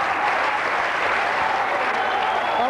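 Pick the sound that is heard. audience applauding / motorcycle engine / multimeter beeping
audience applauding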